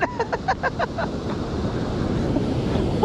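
Surf and waves wash steadily along a beach during surf perch fishing, a continuous broadband roar with wind buffeting the microphone and a few brief sharp knocks at the start.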